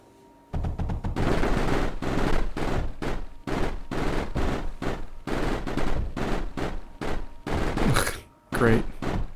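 Salvo turrets fire in the video game Mindustry during a firefight. Loud, close bursts of rapid gunfire come in quick repeated volleys, separated by brief pauses.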